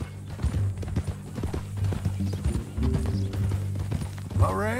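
Horse hooves clop in a steady, close rhythm over a low background in the video game Red Dead Redemption 2, and a short whinny rises near the end.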